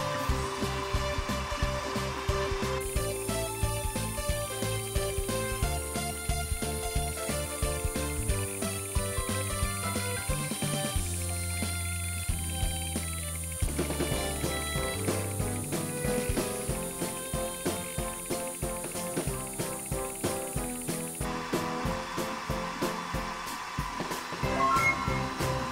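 A four-laser desktop engraving machine runs a job on a cylindrical cup, giving a continuous whirring fan hum. Rapid mechanical ticking and stepping motor patterns are heard throughout at a fairly even level.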